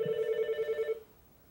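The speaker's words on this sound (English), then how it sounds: "Answer that phone." An Alcatel-Lucent 8028s desk phone gives a single clean electronic ring burst lasting about a second, then cuts off into quiet room tone, with no voices over it.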